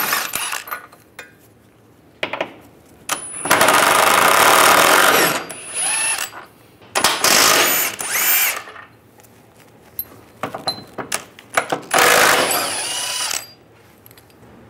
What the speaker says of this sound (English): And we'll pull these cradle bolts out. There's two on this side and two on the other side. Using a 21 millimeter socket,